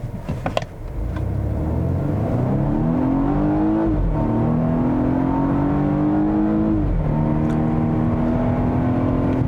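A 2020 Volvo V60 Cross Country engine accelerates, a steady droning whir that climbs in pitch, drops at each gear shift, then climbs again. It is loud and close from inside the car, with no talking.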